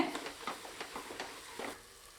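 A spoon stirs mint and coriander into banana flower biryani masala in a pan, giving soft, irregular scraping and gentle sizzling strokes close by.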